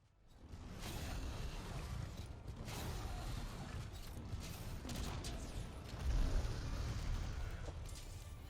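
In Monster Hunter World, a sword and shield being sharpened on a whetstone during a fight with Teostra, heard as repeated grinding and scraping strokes with mechanical creaks, steady and fairly loud over game ambience.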